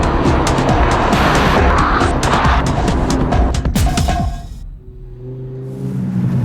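A heavily modified car with a racer-type rear wing driven hard, loud engine roar with rapid gear-change crackles and tire noise, close and continuous before easing off to a lower hum near the end.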